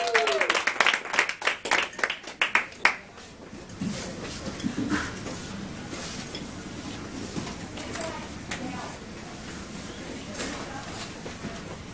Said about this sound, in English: Please give a huge round of applause for our DTM,